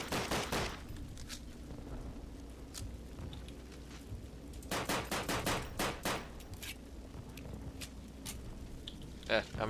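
Luger pistol shots ring out in a World War II Call of Duty D-Day level, several sharp loud bursts spread across the clip over a background of rain-like ambience.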